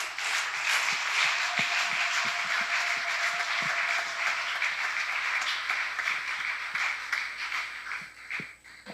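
An audience at a book launch breaks into acclamation, a steady patter of many hands clapping at moderate distance with a few sharp individual claps, fading slightly at the close.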